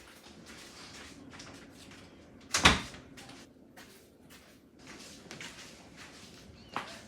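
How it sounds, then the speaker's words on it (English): An interior door swings shut once with a single sharp thud, fairly close, followed later by a smaller knock, over a quiet room background. "Let me go ahead and close this door"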